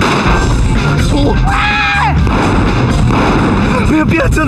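Gunfire in a film scene: loud, dense noise with a few sharp bangs and raised voices shouting over it, all close and continuous.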